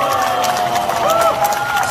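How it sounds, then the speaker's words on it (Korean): Banquet crowd clapping and cheering at a reunion event, a dense wash of applause with a few raised voices and whoops rising above it, moderately loud and continuous. "우리 테이블 다 같이 박수 함성 부탁드려보도록 하겠습니다"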